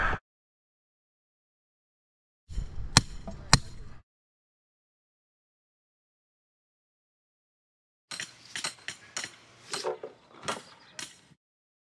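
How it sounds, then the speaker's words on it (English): Workers nail wooden forms for a concrete patio, with sharp hammer blows in two bursts separated by quiet gaps: a few strikes first, then a quicker flurry of hits. "These guys are just nailing the forms up to height."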